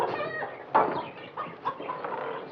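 A chicken clucks repeatedly in a short run of uneven calls, fairly close and clear, with quiet room ambience and no speech.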